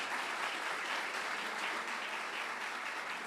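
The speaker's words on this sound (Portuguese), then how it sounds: "Salva de palmas." Studio audience applause on a Brazilian sports interview show, a steady dense wash of clapping at moderate level with no talk over it.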